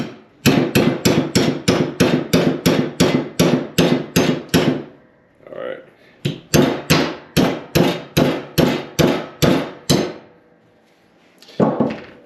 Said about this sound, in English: So I'm just gonna hold it over the top with the hammer.